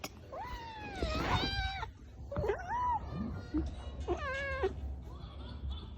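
A cat meows repeatedly indoors, drawn-out, wavering cries that rise and fall in three loud bursts close by, with some scuffling and background noise between them.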